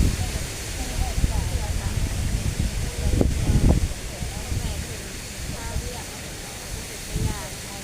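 Strong wind roars across an outdoor microphone in a continuous low, rushing buffet, swelling in gusts around the middle, with faint voices underneath.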